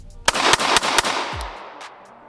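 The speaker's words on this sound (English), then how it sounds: "But I'm going to fire a few rounds here." Several sharp, loud gunshots from a ported Staccato C pistol with 6 Pack port cuts, fired at close range near the body, four quick cracks in an uneven string, then a ringing decay.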